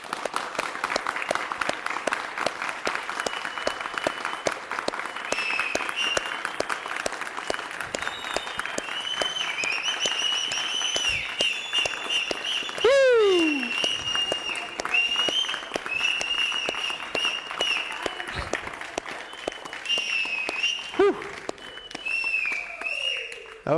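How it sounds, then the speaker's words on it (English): An audience at a yoga festival claps steadily and densely for a long stretch, with a few whistles rising above the applause and a voice speaking briefly underneath. "give yourselves a round of applause."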